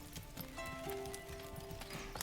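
Horse hooves clip-clopping in the medieval strategy game Manor Lords, a steady rhythm of hoof beats layered over tonal game music and ambient sound.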